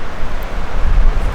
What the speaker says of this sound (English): Holy crap, it's probably 60 mile an hour winds or better